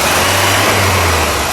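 A 1991 Dodge Daytona Shelby's turbo engine revs close by, a loud steady drone with a low hum throughout, no voices.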